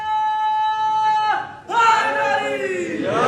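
A crowd at a religious celebration gathering in honour of Imam Hussain and Ghazi Abbas shouts a slogan together in one loud collective burst, following a sustained tone.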